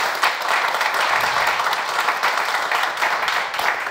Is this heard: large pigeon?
no